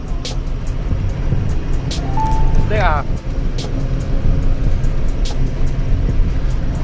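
Heavy truck hauling a high load of pipes on a long highway run, its engine and road noise a steady loud rumble throughout, with brief talk and a short horn-like tone partway through.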